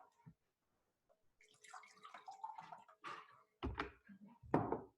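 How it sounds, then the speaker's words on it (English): Water poured into a cup holding salt, a quiet trickle and splash rising near the end after some soft handling noises, close and faint. "I'm going to add the water."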